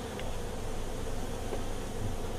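Honey bees buzz steadily as they swarm out of a box while being dumped in from a hive taken from inside a house. The drone is continuous and close, with no voices.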